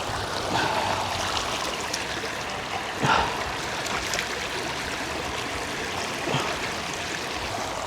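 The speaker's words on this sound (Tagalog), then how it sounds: "malinaw naman yung tubig, oh. Naagos pa." Water flowing steadily in a river at a riverside campsite in Tanay, Rizal, a continuous trickling, babbling stream sound that stays close and fairly even, with a few brief splashes.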